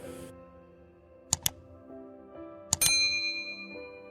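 Two pairs of bright notification bell dings sound over a soft musical bed, each pair a quick double chime, the second followed by a rising shimmering tone that lingers to the end.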